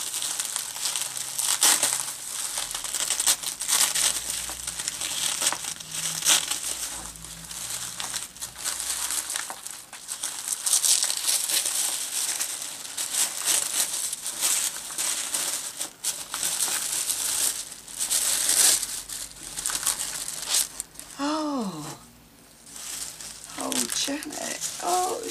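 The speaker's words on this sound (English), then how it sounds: "Let me just move the bubble wrap." Bubble wrap and paper crinkle and crunch continuously as a package is unwrapped by hand, close and busy, with sharp rustles and brief louder crushes throughout.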